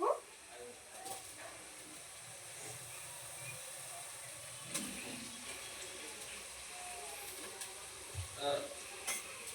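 Tomatoes frying in a pan while being stirred, a steady soft sizzle with occasional scraping stirs and clinks, close and moderately quiet.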